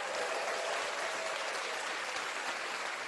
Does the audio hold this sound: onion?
no